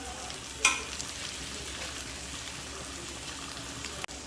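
Onion fries with tomato paste, Maggi and cumin in a pot for Bukhari rice, giving a faint, steady low sizzle with a brief utensil clink early on and a short knock near the end.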